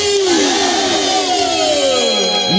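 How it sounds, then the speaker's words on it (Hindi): A large crowd at the Bodsara Dham fair roars a chant together, a loud sustained swell of many voices rising and falling in unison, close and continuous throughout. "एक बार चलो बोरसरा धाम की जयकारा के साथ ताली"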